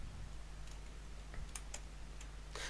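Quiet, irregular keystrokes on a computer keyboard while entering a line of VB.net code, a few separate clicks and a short burst near the end over a low steady hum, with no voices.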